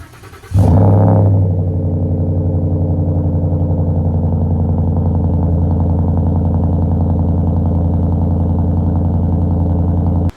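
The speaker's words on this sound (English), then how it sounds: "This thing paired with the Roush catback exhaust sounds amazing." Ford F150 with a 5-liter engine and Roush catback exhaust starts with a sharp burst, then settles into a loud, deep, steady idle rumble that runs unbroken until a sudden stop.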